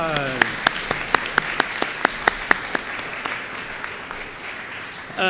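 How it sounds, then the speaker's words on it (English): An audience at an eighth grade school promotion ceremony claps in a brief burst of applause, sharp individual claps standing out near the microphone before the clapping tapers off. "One more round of applause."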